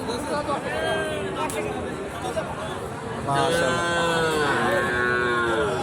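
Several Sahiwal cattle at a cattle market moo loudly with long drawn-out lows, over a background of crowd chatter.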